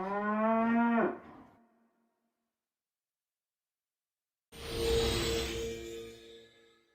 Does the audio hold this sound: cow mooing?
yes